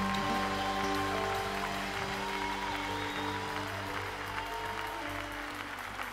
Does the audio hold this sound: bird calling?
no